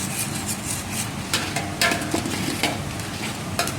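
Masala for egg korma, with yogurt added, fries in a pan, giving a steady soft sizzle broken by scraping stirs and a few sharper spatula strokes.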